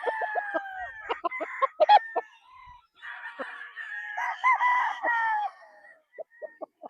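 A Boston roundhead gamecock on a game farm crows and clucks near and clear, with several bursts of crowing broken by short clucks and gaps, no talk over it.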